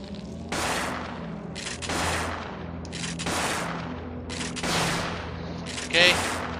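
Repeated shotgun blasts of buckshot in the survival horror game Parasite Eve II, roughly four heavy booming shots spaced about a second apart, each with a short rolling tail, then a brief sharp metallic click near the end.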